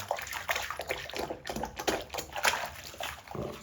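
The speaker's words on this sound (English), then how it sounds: "Splash a little bit." Gloved hands washing in a basin of dirty water, with continuous close splashing and sloshing in small irregular bursts.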